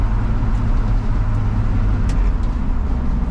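Lifted Chevrolet squarebody truck cruising on a main road, a steady loud low engine drone and road rumble heard from inside the cab, continuous throughout, no talking.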